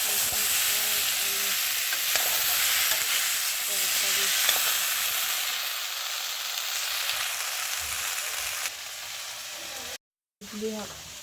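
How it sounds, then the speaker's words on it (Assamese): Slices of raw banana sizzle steadily in hot oil in a pan at a home kitchen, a dense close hiss with faint stirring and a brief drop near the end. "এইফালে মই কল আলুখিনি ভাজি আছোঁ।"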